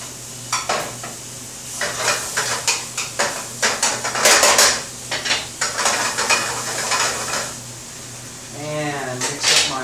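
Tofu pieces flipped in a hot pan with soft sizzling under repeated clinks and scrapes of utensils against cookware, a busy sequence of short knocks and stirs, with some talking nearby.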